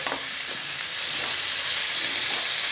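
Chopped large onions sauté in hot oil in a pan for a fish curry, giving a steady, even sizzle close by with faint stirring, no voices.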